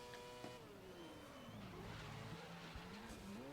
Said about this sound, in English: Locked wheels. Okay, braking, under braking.